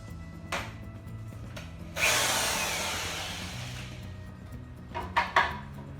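A power drill whirs steadily into wood for about two seconds while building a kitchen pantry cabinet, winding down slowly, with short tool clicks and knocks before and after.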